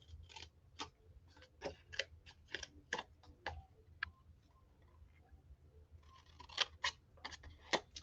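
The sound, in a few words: scissors cutting paper banner corner to cut mark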